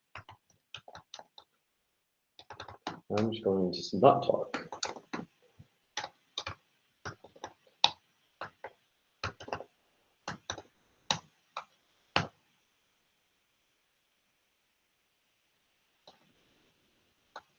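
Computer keyboard keys tapped in short, sharp clicks with irregular rhythm, close by, mostly alone after a brief burst of talking near the start.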